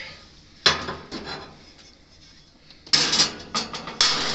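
A cast iron skillet is set inside a grill with heavy metallic clanks and scrapes, one sharp knock followed by a second cluster of louder rattling bangs, close and unaccompanied by talk.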